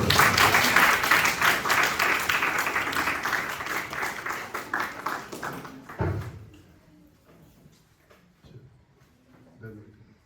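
Loud, dense applause from a crowd at a prize-giving ceremony fills the first six seconds, then drops away to scattered claps and a few thumps.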